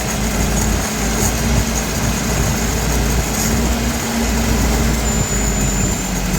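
The engine of a 1984 Toyota pickup runs at a high idle, giving a loud steady drone with a faint whine on top, close and constant, with no talk.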